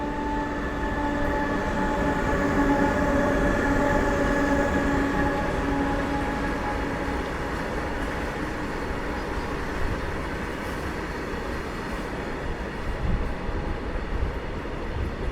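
A train runs along the main line track through the new Cherlapalli terminal station, producing a continuous loud rumble and rolling roar with steady tonal whine for about fifteen seconds and no talk.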